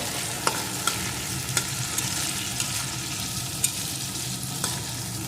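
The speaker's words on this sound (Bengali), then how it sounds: "এর সাথেই দেবো 4টে চেরা কাঁচা লঙ্কা। একটু নাড়িয়ে নেব।" Slit green chillies and chopped tomato fry in a crab curry pan, with a constant close sizzle and periodic sharp clinks and scrapes of a spoon stirring against the pan.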